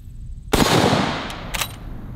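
A single loud, close rifle shot from a .45-70 lever action firing a 300 grain Federal Fusion round cracks sharply, then rolls off in a long fading echo, followed by faint metallic clicks of the lever.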